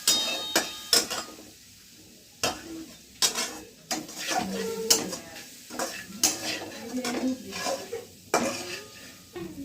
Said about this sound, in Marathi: आता मस्तपैकी मसाला टाकून घ्यायचा आपल्याला पास्ताचा जो आहे तो. आणि मस्तपैकी आता मिक्स करून घ्यायचं.